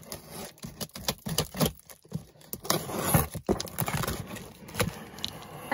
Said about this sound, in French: je vais déjà couper le scotch